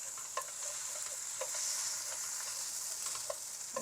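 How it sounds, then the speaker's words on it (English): Noodles fry in a pan and are stirred, giving a steady sizzle with scattered scraping clicks of a utensil, close and continuous with no talking. "Keep frying. Keep doing this until the noodles get"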